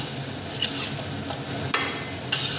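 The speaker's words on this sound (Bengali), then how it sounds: "মাছের মাথাগুলো দিয়ে বাঁধাকপিটাকে ভালো করে একটু মিশিয়ে দেবো" Cabbage and fish heads with a splash of water are stirred in a pan over a high gas flame, giving a few sharp scraping strokes against a steady low sizzle.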